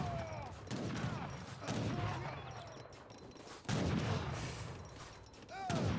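Gunfire volley from Owl Hoots using the crack shot ability in Age of Empires 3, a large real-time strategy battle, heard as bursts of overlapping musket fire over constant battle noise, rising at about two and four seconds.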